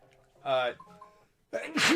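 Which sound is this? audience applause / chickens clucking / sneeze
sneeze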